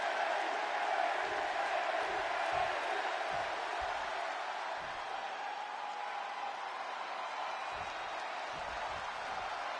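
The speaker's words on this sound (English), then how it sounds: "And just listen to this crowd here in Chicago." Arena crowd in the video game WWE 2K26 on PS5, set in Chicago: a constant roar of cheering and applause, fairly loud and sustained, with occasional low thuds underneath.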